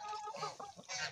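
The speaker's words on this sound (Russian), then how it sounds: "Вот такие, друзья, петушки." Roosters give a short burst of close, loud clucks and throaty calls, several quick squawking notes in about a second.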